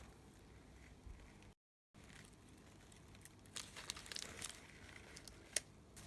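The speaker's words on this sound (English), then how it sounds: "So now I'm just using masking tape and taping it all the way down" Masking tape crinkles and rasps as it is pulled off the roll and pressed down around wire stems of a handmade bridesmaid's bouquet, quiet close-up rustling with a couple of sharper tearing bursts near the end.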